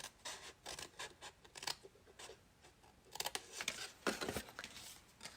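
Scissors snip through cardstock while a folded heart box is trimmed, with a run of quick, close cutting strokes and crisp paper rustles in short bursts, fairly quiet and alone without talk.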